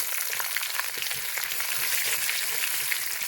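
Cumin seeds and onion frying in hot oil in a village kitchen, a steady bright sizzle with crackling pops and occasional stirring scrapes, close and continuous with no talking.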